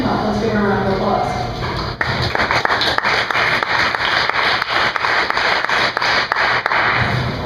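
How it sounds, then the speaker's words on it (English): A crowd applauds to welcome a speaker at a kitchen science evening on fermentation, a dense patter of clapping breaking out abruptly after a brief stretch of talk and holding steady. "Let's give her a round of applause."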